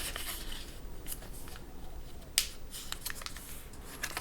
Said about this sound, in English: I'm going to turn it over, and I need to fold these edges to that center crease